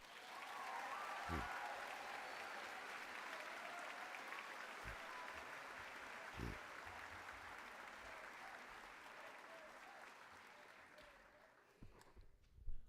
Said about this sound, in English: And those are a whole bunch of dedicated colleagues who also need a round of applause